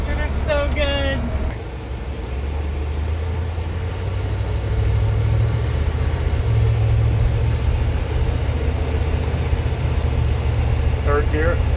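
A Chevy C20 tool truck's engine drones close and steady as the driver shifts gears, its low hum dipping briefly then settling back into an even run, with a voice briefly heard at the start.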